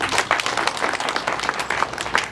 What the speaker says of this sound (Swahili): Hebu tujipigie makofi jamani